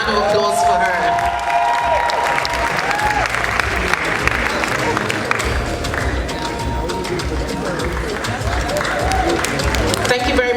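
A gala crowd applauds Chief Doctor Mrs. Folashade Okoya at a women's awards event, with loud, dense clapping running steadily throughout alongside a mix of voices and cheering.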